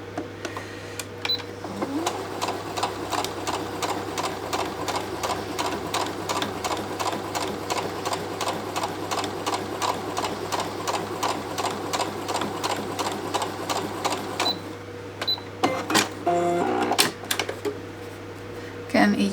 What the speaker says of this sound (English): And let's sew that one